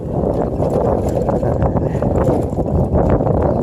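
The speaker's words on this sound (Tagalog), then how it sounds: "Ay grabe, ang lakas ng hangin." Strong wind buffeting hard, a loud continuous roaring rush with gusty fluctuations and no clear talk.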